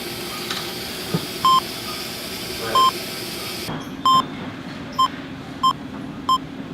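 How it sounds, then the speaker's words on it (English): Short electronic beeps sound at regular intervals, about six in total, each a clean mid-pitched tone, over a steady background hum that drops away partway through. "Wonder what that beeping is."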